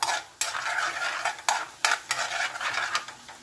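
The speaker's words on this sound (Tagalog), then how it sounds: "ilagay na po natin ang ating bawang. 3 cloves lang ng bawang to." Three garlic cloves fry in a pan for beef shank stew, a close, soft sizzle cut by a few sharp scrapes of a spoon stirring against the pan.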